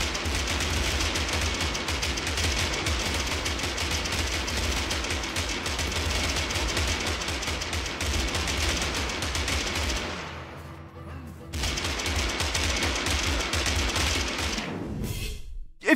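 Video game gunfire aimed at scarecrows, rapid automatic shots in a dense, continuous fusillade that keeps up loudly for about ten seconds, breaks briefly, then resumes before cutting off.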